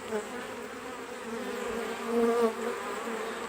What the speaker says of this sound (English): You can probably sense a little bit of a difference in the noise of the hive just then.